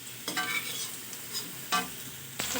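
Eggplant pieces frying in oil in a pan, a continuous close sizzle broken by three or four quick scraping stirs of a spatula, with no talking.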